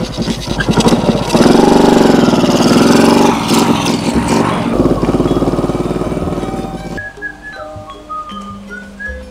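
A motorcycle engine idles close by with a steady rough rumble that swells loudly early on and then fades into quieter background with faint tonal sounds.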